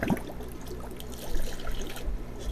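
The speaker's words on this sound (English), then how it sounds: "fill them up with some water." Water trickles and pours softly as aquarium filters are filled in an indoor fish room, a faint steady dribble heard alone and close by.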